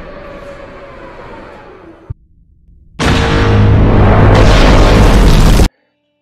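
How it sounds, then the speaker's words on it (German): A LEGO Star Wars 75312 Slave 1 toy plays an electronic seismic bomb effect, a sharp hum, a brief silent pause and then a loud deep roaring boom lasting nearly three seconds before it cuts off abruptly. "hier hinten lässt er dann ja immer seine seismischen Bomben raus mit dem richtig wunderschönen Knall"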